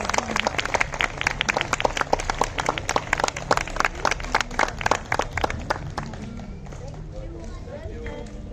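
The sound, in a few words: audience applause at a school prize ceremony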